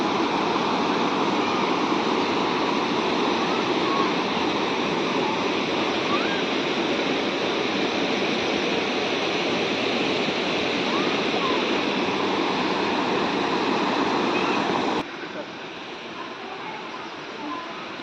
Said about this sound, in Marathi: धबधब्यासारखं बघा त्या साईडला पाणी वाहतं एकदम वरतून